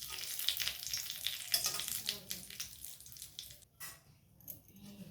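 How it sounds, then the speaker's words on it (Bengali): Dried red chillies and bay leaves frying in hot oil for an amla pickle, a busy broadband sizzle with stirring scrapes, loud at first and easing toward the end. "দুটো শুকনো লঙ্কা দিয়ে দিলাম তেলের মধ্যে। আর দেব দুটো তেজপাতা।"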